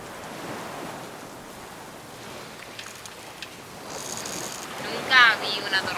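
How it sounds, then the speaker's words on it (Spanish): A squall storm at sea batters a boat with a dense, steady roar of wind and heavy rain, broadband and continuous, with faint whistling tones and brief rattles rising near the end. "Nunca vi una tormenta así."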